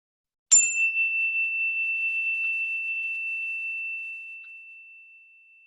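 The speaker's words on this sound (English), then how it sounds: "listen to this chime until you can't hear it any further" A meditation chime is struck once, giving a bright, clear ring that lingers as a pure tone and slowly fades away over several seconds in otherwise silent surroundings.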